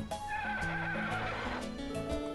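Horse neighing and whinnying in Harvest Moon DS: Sunshine Islands, a bright synthesized whinny over game music, with clip-clop hooves faintly in the mix.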